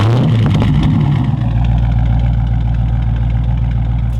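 A Dodge Scat Pack engine, already warm, turns over and catches, settling into a loud, deep idle with a rumbling exhaust, close by.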